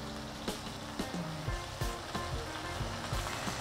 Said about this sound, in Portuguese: Vai começar a fazer uma fritura legal aqui